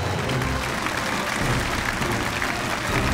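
A studio audience at a televised antique appraisal show in Nanchang applauds to welcome a guest, a dense and steady burst of clapping that continues throughout at a fairly loud level.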